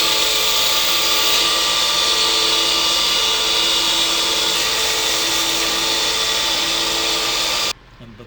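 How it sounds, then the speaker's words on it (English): A belt sander grinds steadily on a small pen part, a loud, continuous whir with a bright abrasive hiss that cuts off abruptly near the end. "I can take this part over to my belt sander"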